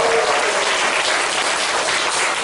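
A congregation applauds steadily at a Korean church's commemorative worship service marking its 100th all-night devotion, with dense, continuous clapping filling the hall at close range for the whole stretch.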